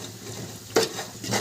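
Prawns being stirred in a hot pan with frying cauliflower, a steady close sizzle with a sharp scrape of the utensil partway through and more stirring scrapes near the end.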